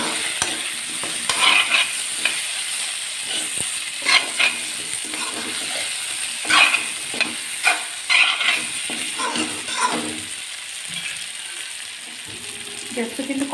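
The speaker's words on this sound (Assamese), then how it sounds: "এতিয়া মাংসখিনি দি দিব লাগে।" Pork pieces frying in a hot pan with colour developing, a steady loud sizzle broken by repeated scraping stirs of a utensil, with no talking.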